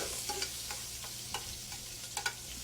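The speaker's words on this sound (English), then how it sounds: "These shrimp are going to take just a couple minutes. They're small shrimp, and it's a hot skillet." Small shrimp cooking in a hot skillet give a steady close sizzle and crackle, punctuated by scattered light pops and taps of a utensil, with no voices.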